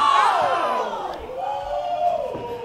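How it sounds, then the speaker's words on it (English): Wrestling fans at an indie show cheer and yell, with long rising and falling shouts from the crowd carrying over a moderately loud, roomy arena background. "the stupid fans are right there that are cheering this on"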